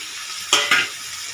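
Vegetables fry in a pan under a steady soft sizzle, broken by two quick scraping stirs of a spoon close by.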